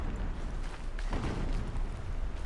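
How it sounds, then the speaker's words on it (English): Low, rumbling booms of distant explosions in the video game Horizon Zero Dawn roll in from far off, dull and muffled beneath a steady wash of background noise. "Explosions in the distance."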